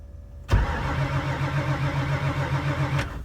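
A 1964 Mercury fitted with Holley Sniper EFI cranks on a cold start with a weak battery, the starter churning steadily for about two and a half seconds without the engine catching; close and loud.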